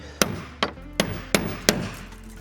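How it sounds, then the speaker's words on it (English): A hammer drives a nail punch to sink protruding nails into an old timber wall during a 100-year-old Queenslander renovation, giving five sharp, evenly spaced metallic strikes, close and loud, with no talking. "Just poking out a little bit, so we'll get them punched, get them tidied up."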